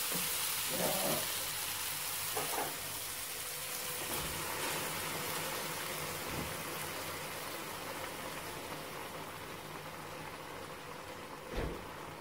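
White peas for kurma frying in a pan, giving a soft, continuous sizzle and hiss with a few faint stirring scrapes, quiet and steady throughout.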